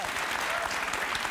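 A studio audience applauding on a talk show, dense continuous clapping filling the room throughout, fairly loud and steady.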